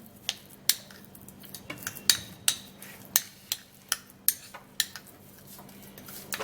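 A utensil clinks sharply and repeatedly against a bowl while shea butter, plantain and baking soda are mixed, the taps coming in a steady rhythm about every half second.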